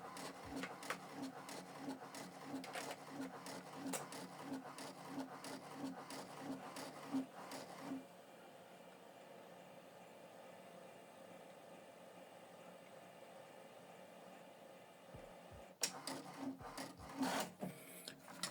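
An HP Deskjet 4130e printer prints a double-sided copy with faint, rhythmic mechanical clicking and feeding passes. A quieter hum follows, then a brief final burst of paper-handling rattles.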